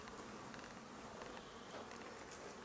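Honey bees swarm around sunlit hives on a spring apiary visit, a dense, faint, continuous buzzing of many insects close by with no voices.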